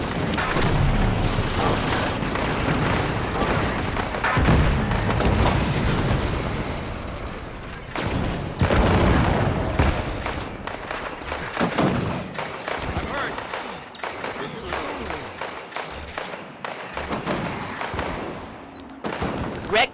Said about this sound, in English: Hostile fire! Under fire from a knight!